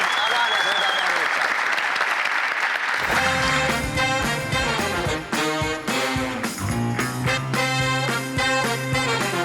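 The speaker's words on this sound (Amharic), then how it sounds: "አንድ ሞቅ ያለ ጭብጨባ ለተወዳዳሪዎች።" Audience applause for the contestants on a comedians-versus-students quiz show: a loud, dense burst of clapping that swells and continues steadily, with a bright sustained tone and music-like layers running beneath it.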